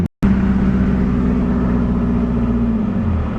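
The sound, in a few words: Nissan Hardbody pickup truck engine while driving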